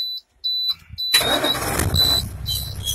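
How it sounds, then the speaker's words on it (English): A truck engine cranks and fires up during a Class A pre-trip air brake test, with a brief starter whine giving way to a loud, steady, rumbling idle close by, with no talk. "And we start the truck."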